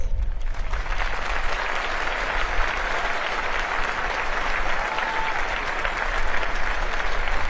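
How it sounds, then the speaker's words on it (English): A large crowd at a Naval Academy graduation ceremony applauds distinguished graduates, a loud, dense and sustained roar of clapping that stays constant throughout. "Please join me in recognizing and applauding these distinguished graduates."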